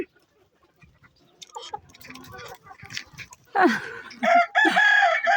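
Chickens and a rooster at a coop in the morning as the door is opened. Sparse clucks and rustling start things off, then loud, close crowing and excited squawks take over near the end, with someone talking over the flock.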